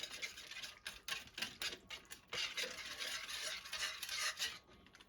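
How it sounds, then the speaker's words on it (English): A spoon stirs olive oil and heavy cream sauce in a crockpot, giving soft, steady scraping and swishing strokes against the pot, close but faint, with no voices. "Just try to get this blended as well as you can in your sauce"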